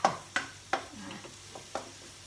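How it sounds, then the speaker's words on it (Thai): Hot cooking oil sizzles softly in a pan in a home kitchen, under a run of sharp utensil strokes against the pan that land about every third of a second, with no talking. "น้ำมันเริ่มร้อนก็จะได้ยินเสียงของอ น้ำมันเดือดนะคะ"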